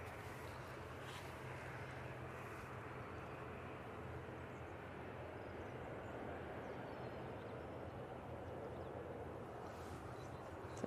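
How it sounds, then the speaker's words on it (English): A Ryanair jet on the runway at Manchester Airport gives off a faint, distant, steady low engine rumble that holds evenly throughout, with no voices over it. "Ryanair is coming onto the runway."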